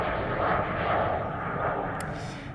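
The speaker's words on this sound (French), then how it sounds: "Et l'avion qui passe." An airplane passes overhead during an outdoor morning exercise session in the sun, a steady broad engine roar that swells and eases slightly across the clip, heard alone without talk.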